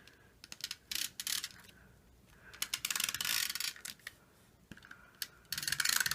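An adhesive tape runner rolls across a paper card in several short bursts of dry, ratcheting, crackly clicks, close and fairly crisp with brief pauses between strokes.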